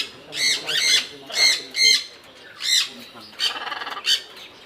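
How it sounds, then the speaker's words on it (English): Pet bird at an exotic bird hospital in Kerala, India, giving a series of loud, close, harsh squawks in separate bursts, with a faster rattling call near the end. "Talking bird."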